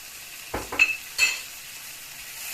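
Milk thistle greens being sautéed with tomato paste stirred in give a low background sizzle and two or three short utensil scrapes against the pan, close and without talk.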